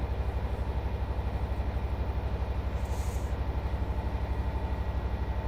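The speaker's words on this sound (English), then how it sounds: "There's a train." A train passes in Train Simulator Classic, a heavy, evenly pulsing low rumble that stays loud and steady throughout, with no voices over it.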